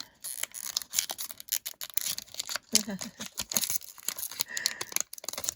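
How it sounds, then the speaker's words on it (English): Foil and paper crinkle and tear in irregular bursts as a trading card mystery pack is ripped open by hand, close up and fairly quiet. "This is the last mystery pack I'm going to open."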